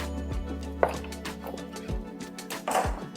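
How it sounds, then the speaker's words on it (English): A kitchen knife makes a few big chops through garlic cloves on a cutting board, scattered sharp close taps with quiet gaps between them. "Now we're going to mince 3 garlic cloves. So I usually just do a couple of big chops."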